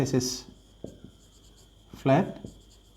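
A teacher writing a physics answer on a board, with short scratchy strokes of chalk or marker between bursts of nearby talking.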